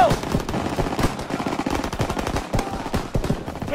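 Turret machine gun fire in the Call of Duty WWII video game rattles out in a loud, rapid, unbroken stream of shots, dense and continuous throughout.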